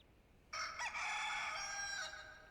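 Chicken crowing in the Hyrule Warriors Definitive Edition video game: a single loud, bright cock-a-doodle-doo held for over a second over a low background hum.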